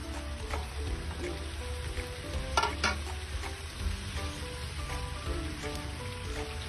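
Bitter gourd frying in a pan, giving a steady, rain-like crackling sizzle with a few scrapes and taps of stirring, close and even throughout.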